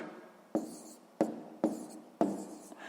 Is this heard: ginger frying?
no